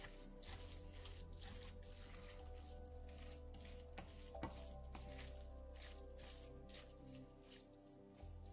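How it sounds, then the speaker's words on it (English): Cabbage and beef frying together in a pan, a steady soft sizzle and crackle with faint drips and stirring noises, continuous and close with no talking. "My cabbage cooking very well there, and I'll mix the cabbage together with the beef"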